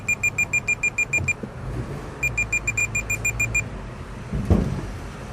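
A Cenmax parking sensor on a Mercedes ML320 beeps in two quick rhythmic runs of high, evenly spaced tones, separated by a short pause, over a low engine rumble with a soft knock near the end.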